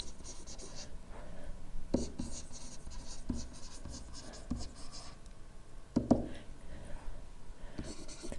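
Pen or pencil scratching across paper while jotting geometry class notes, close and quiet, with soft intermittent strokes and a few sharper taps over a low room hum.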